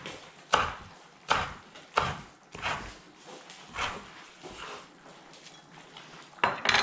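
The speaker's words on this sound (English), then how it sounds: "Lightly chop these guys." Mint being lightly chopped for a sweet potato garnish, a knife striking a board in about seven separate, evenly spaced chops, close and moderately loud with no talking.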